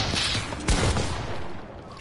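Weapon fire in Fortnite, a loud burst of sharp blasts and crackling that peaks briefly near the middle and then trails off over a dense, noisy game background.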